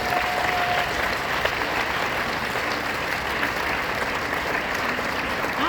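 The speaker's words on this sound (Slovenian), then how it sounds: "en velik aplavz za moje dame." A live audience applauds a group of women on stage, giving loud, steady clapping that holds evenly from start to finish.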